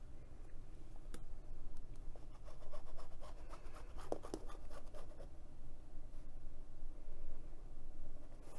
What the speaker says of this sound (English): I'm going to take my ruler and draw a line that's halfway up the box